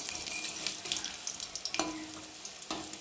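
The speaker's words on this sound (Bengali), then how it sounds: "এবার ছাকা তেলে ভাজতে হয়, তাহলে ভালো লাগে।" Onion fritters (peyaji) bubbling and sizzling in hot oil, a close continuous crackle with occasional sharper pops and stirring clinks.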